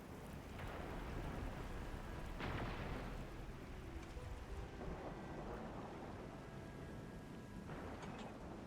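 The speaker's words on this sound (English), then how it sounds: "It's raining harder. I can't hear anything except for the rain." Heavy rain pours in the Wuling area of a video game, a dense continuous roar with low rumbling swells. No one is speaking.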